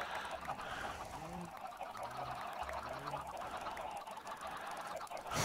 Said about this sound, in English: That is an excited wall of chickens.